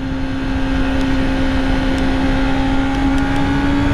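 A Honda CBR 1000RR SP2 superbike accelerating hard, its engine a loud, steady, high-pitched whine that holds an even tone throughout with a constant roar underneath.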